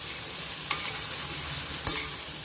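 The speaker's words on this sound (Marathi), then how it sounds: "हे छान आपल्याला परतून घ्यायचे मस्त असं" Coarsely mashed green peas for matar kachori sautéed in a pan, giving a steady close sizzle broken by two quick scrapes of the spoon.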